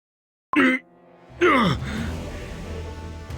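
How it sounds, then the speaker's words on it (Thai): Spirits groan in the Cookie Run Kingdom game: a short ghostly moan, a pause, then a longer drawn-out wail that trails into a low, lingering rumble. "เสียงโอดครวญของเหล่าวิญญาณ"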